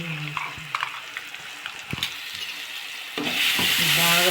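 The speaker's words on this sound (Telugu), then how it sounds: "బాగా ఫ్రై చేసుకోవాలి." Onion chilli paste with cumin and dried red chillies frying in a pan for a spinach dish, with stirring scrapes and clinks over a sizzle that swells louder and steadier toward the end.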